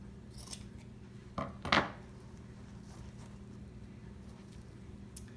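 Scissors snip through yarn on a sweater pumpkin craft, two quick close cuts in succession against a quiet room background, followed by faint handling sounds.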